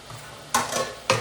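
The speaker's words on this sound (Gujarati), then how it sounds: "હવે આપણે આને હવે મિક્સ કરી લઈશું." Turmeric, salt and garam masala being stirred into fried potato chips in a pan: two distinct scraping strokes with a soft sizzle beneath, close and fairly quiet, no talking.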